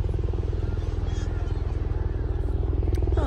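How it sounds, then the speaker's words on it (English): Steady low rhythmic chopping drone of a helicopter overhead, constant and fairly loud throughout, with no other sounds breaking through. "Oh, okay. A helicopter."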